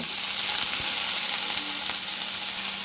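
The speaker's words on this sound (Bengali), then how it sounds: "পেঁয়াজটা যখন ভাজা হয়ে যাবে ঠিক ওই সময়ে আমি দেব কেটে রাখা সবজিগুলো।" Onion sizzles and fries in hot oil in a pan alongside chopped vegetables for a tangra fish chorchori, giving a dense, continuous crackling hiss heard close up without talk.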